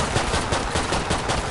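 Gunfire from the video game Killing Floor 2 rattles in dense, rapid bursts that fill the whole stretch, loud and close, with no talking.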